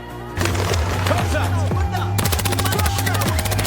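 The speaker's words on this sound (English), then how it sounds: "Unexpectedly, the enemy's gun went off as he fell." Movie gunfire during an armed assault on a wedding, dense rapid repeated shots crackling loud and close under a continuous low music drone, growing denser toward the end.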